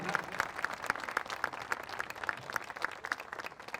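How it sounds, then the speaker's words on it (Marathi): An audience applauds a five-year-old child's lecture about Shivaji Maharaj, with a steady, moderately distant patter of clapping that continues throughout at an even level. "जरा टाळ्या बघा"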